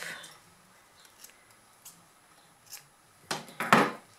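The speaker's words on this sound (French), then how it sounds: "Je découpe l'excédent de zip" Scissors snip through the excess end of a metal-free sewing zipper for a faux-leather half-moon coin purse. After light handling noises, two or three crisp cuts come close together near the end.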